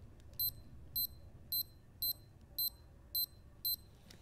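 Counterfeit copy of a Casio B640WC digital watch gives seven short, sharp electronic double beeps at a steady rhythm, close and clear over a quiet background.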